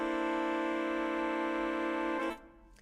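A horn section holds a sustained chord in mechanical voicing, with the trombone on the ninth, steady and clean for about two seconds before it cuts off and rings briefly into silence.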